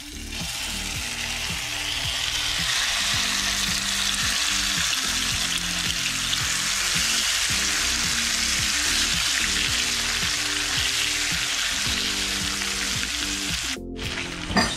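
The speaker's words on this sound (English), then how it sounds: "beautiful paste ready to be fried up, consisting of galangal, turmeric, lemongrass, ginger, chili, peppers, and everything else" A spice paste of galangal, turmeric, lemongrass, ginger and chili fries in a pan with a loud, steady, close sizzle that runs the whole time, a faint rhythmic clicking underneath and a brief clunk near the end.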